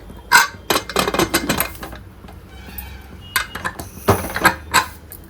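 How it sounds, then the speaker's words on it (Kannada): Metal clatter and clinks of a pressure cooker lid being fitted and closed over sambar in a home kitchen, several sharp knocks in two bursts with a quieter gap between. "ನೋಡಿ ಕುಕ್ಕರ್ ಮುಚ್ಚುತ್ತಾ ಇದ್ದೀನಿ ಈಗ."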